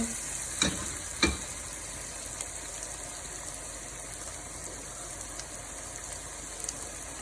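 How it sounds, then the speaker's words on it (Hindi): Whole garam masala, kalonji and tamarind fry in hot oil in a pot for mutton biryani, a steady soft sizzle broken by two sharp clinks of a stirring spoon early on, with no talking. "इसको हमने अच्छी तरह से मसाले को भून लेना है"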